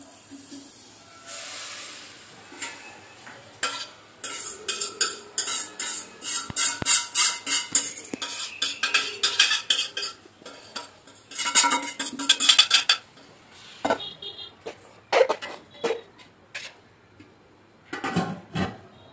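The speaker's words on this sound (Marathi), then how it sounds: "यामध्ये आपण हे मॅरिनेशन केलेले मटन यात घालूया" Marinated mutton goes into a biryani pot and gets stirred, with metal clatter, scraping and sizzling hiss arriving in irregular bursts, loud and close, with no talking.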